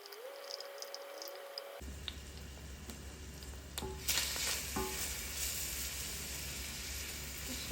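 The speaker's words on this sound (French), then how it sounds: "Et je viens ajouter le tout dans mon huile d'olive." Chopped onion and garlic hit hot olive oil, and a soft sizzle starts abruptly. It swells into a louder, steady frying hiss partway through.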